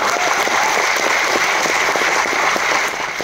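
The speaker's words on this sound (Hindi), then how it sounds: "एक बार जोरदार तालियां।" An audience at a motivational success-sharing event in Mumbai breaks into loud, sustained applause, a thick wash of many hands clapping close by that eases slightly near the end.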